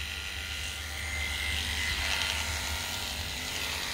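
Electric hair clippers buzz continuously while trimming hair, a steady close motor whir with no talking.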